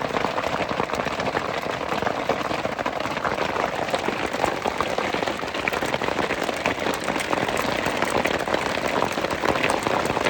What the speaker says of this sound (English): Oh, it's hailing.